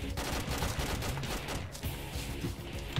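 Rapid gunfire from an online shooter game, dense bursts of shots crackling continuously for three seconds at steady loudness with no talk over them.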